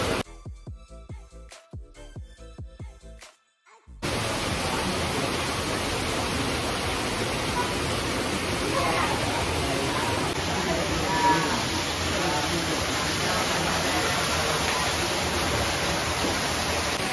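Hot water gushing from seven spouts at the Aia Angek Bukik Gadang hot spring bath in Koto Anau: a brief patch of clicks and tones gives way to a loud, steady, hissing roar of pouring water that continues unbroken.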